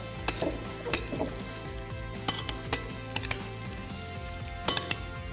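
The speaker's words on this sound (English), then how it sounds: "I'm gonna mix this together." Lemon zest and chopped parsley are mixed together in a bowl, with intermittent clinks of a utensil against the dish and soft stirring sounds, close and fairly quiet.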